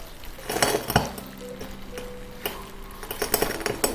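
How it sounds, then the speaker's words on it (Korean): Sharp little cracks and clicks as drops of very hot sugar syrup hit cold water, a few scattered snaps against faint background tones and a quiet hum. "온도가 높이 올라간 설탕물은 차가운 물에 떨어뜨렸을 때 이렇게 오도독 소리가"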